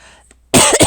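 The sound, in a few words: coughing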